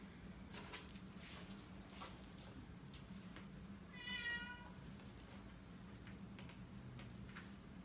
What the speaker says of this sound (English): That cat you hear in the background is Pee-wee.